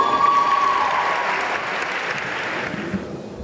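Applause fills a business awards ceremony as a company is called to the stage, a dense steady clapping crowd that tapers off near the end with no voices.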